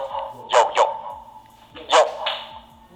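Dogs bark outdoors, two quick double barks a second or so apart, close and fairly loud.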